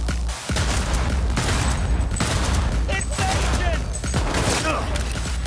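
Grenade explosions and gunfire in a Cyberpunk 2077 firefight, with several loud booming blasts and rapid shots in a dense, continuous barrage.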